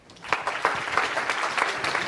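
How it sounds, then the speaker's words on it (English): An audience at a FOSDEM 2017 conference talk applauds, a burst of scattered hand claps at steady loudness that fills the short moment. "Let's applaud him."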